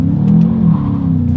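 A 2021 Volkswagen Jetta GLI accelerating hard, its engine note loud and close with a rising, strained drone that holds through a short burst.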